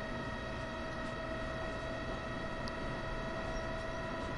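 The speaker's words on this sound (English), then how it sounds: "Oh, this is the New York train." A New York commuter train running in the Train Sim World video game gives a steady, continuous rumble with sustained tonal hum, even and unbroken throughout, close and moderately loud with no talk over it.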